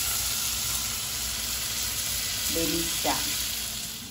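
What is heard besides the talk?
food frying and sizzling in a pan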